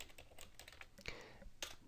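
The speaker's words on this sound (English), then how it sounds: "So press the enter key once I finish typing" Rapid clicking of keys on a computer keyboard while entering spreadsheet data, a steady run of close, crisp keystrokes with a few louder taps standing out.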